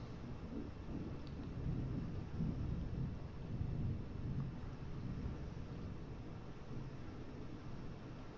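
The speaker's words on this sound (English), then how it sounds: "It is raining cats and dogs outside." Heavy rain and rolling thunder outdoors, a faint, steady low rumble and wash of rain noise lasting throughout, distant and muffled, with no talking.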